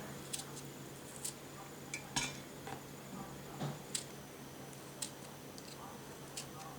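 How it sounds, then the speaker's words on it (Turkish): Quartered cucumber pieces land in a glass jar for pickling: scattered faint clinks and soft knocks at irregular intervals, quiet and close over a low background hum. "Ve kavanozumun içerisine atıyorum böyle"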